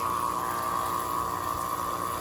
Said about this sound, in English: It is pumping water.